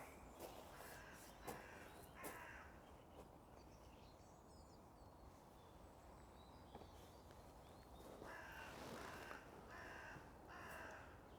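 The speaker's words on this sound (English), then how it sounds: "those crows are quite vocal this morning" Crows caw in scattered bursts from a moderate distance in the morning at Sandwell Priory, over steady outdoor background noise, with a denser flurry of calls near the end.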